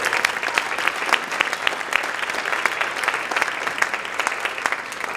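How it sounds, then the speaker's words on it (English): An audience at a jazz band dinner dance gives a round of applause for the band, sustained, evenly textured clapping from many people, moderately loud and steady throughout. "How about one more round of applause for them?"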